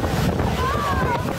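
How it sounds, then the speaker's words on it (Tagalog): Strong typhoon wind gusts buffet the microphone outdoors in a low, loud roaring rush, with a faint whistling tone partway through. "Hagupit ng hangin."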